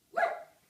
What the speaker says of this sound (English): if you bark one more time, you're gonna go in timeout